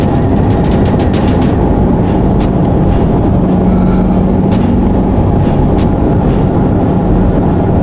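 Loud, constant low road and engine roar fills a Corvette C8 cabin while riding, a dense steady rumble with no talk.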